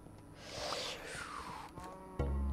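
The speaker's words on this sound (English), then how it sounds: "I hear you, moo cow." A cow moos inside a survival video game, a drawn-out bovine call rising and falling over a couple of seconds amid low game ambience, fairly quiet.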